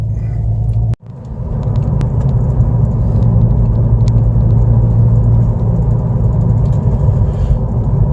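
A car with damaged tires drives at speed, giving a loud, steady low road rumble and whir that briefly drops out once near the start. No distinct thumping stands out.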